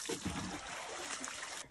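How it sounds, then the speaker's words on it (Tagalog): Water poured over the body while bathing, a continuous soft splashing trickle with small splatters, fairly faint and close, running steadily before stopping abruptly. "Bubo ako tubig kay tugnaw na."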